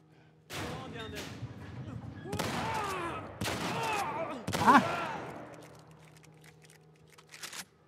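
Shots ring out in The Last Of Us Part I video game, several loud blasts in separate bursts with echoing tails, the strongest near the middle, amid background game noise and what may be a voice.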